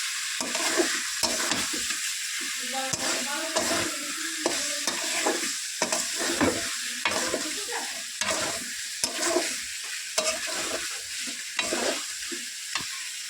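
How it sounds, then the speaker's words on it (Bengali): Chicken pieces coated in meat masala and chicken masala fry in a pan for biryani, stirred continuously with a loud, steady sizzle and repeated rhythmic scraping and clatter of the spoon, with no voices. "তো এবারে নাড়বো।"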